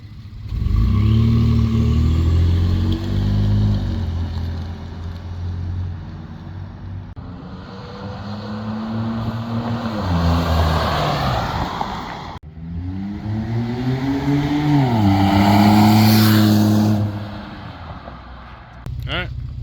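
A Ford F-150 pickup with a V6 and an aftermarket exhaust revs loudly outside, several rising and falling engine swells in a row, with a voice talking over it briefly.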